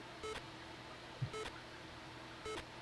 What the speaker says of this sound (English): Why are we getting a beep?